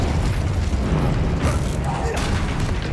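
A Confringo fire spell blasts in Hogwarts Legacy, a loud, dense burst of rushing crackle and rumble that fills the whole moment with no pause.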